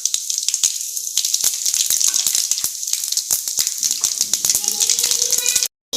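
Mustard seeds and urad dal spluttering in hot oil for a Tamil soya chunk gravy, dense crackling pops and sizzle running steadily and close, cutting off abruptly near the end.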